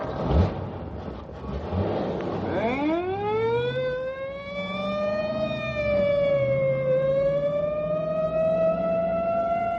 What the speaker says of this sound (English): Or in a screaming squad car.